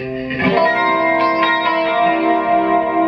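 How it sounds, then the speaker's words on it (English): An electric guitar through a Bassman amp with compression and a little overdrive rings out a few sustained notes soaked in chorus shimmer, repeating delay echoes and a long reverb tail. "Bassman with compression, a little overdrive, some chorus, some delay and some reverb"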